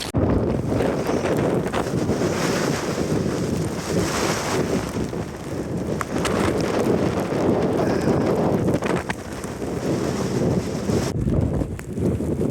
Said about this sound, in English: it's very windy and hammering it down with rain